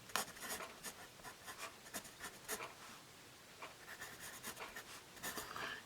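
A Pen+Gear #2/HB pencil with reddish, non-cedar wood scratches across paper in short, close strokes with brief pauses, alone.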